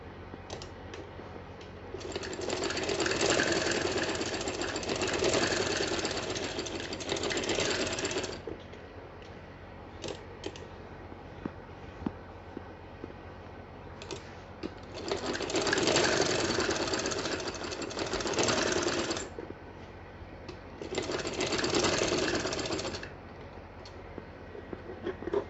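A sewing machine stitches small fabric pieces together into a dress, running in three bursts of rapid mechanical chatter separated by quiet pauses with faint handling clicks.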